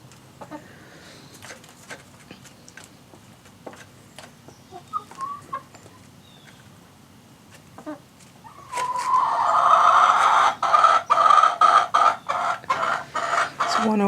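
Backyard chickens clucking and chattering, soft scattered clucks at first, then a louder, dense burst of close calls in the second half.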